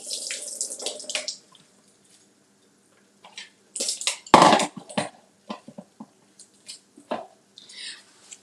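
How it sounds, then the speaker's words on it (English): Hot water from boiled eggs is poured out of a pot into a sink in bursts, with a splashy rush at the start and another strong gush midway, then scattered drips and splashes. It sounds close up with no talk. "So let me pour out the water."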